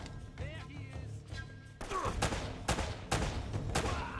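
Gunfire in the Uncharted video game: several sharp, close shots in quick succession, each one punchy and loud, with the game's ambient sound underneath.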